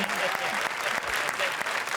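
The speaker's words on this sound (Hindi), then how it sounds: "जोरदार तालियां" Studio audience on a Hindi television comedy show breaks into loud, dense applause, a steady wash of clapping that fills the whole moment with no break.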